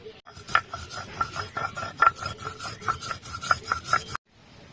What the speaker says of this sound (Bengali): এই সর্ষেগুলোকে বাটবো একটু লবণ দিয়ে।